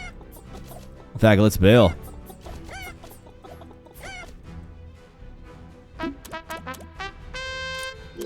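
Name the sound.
chickens clucking in an RTS video game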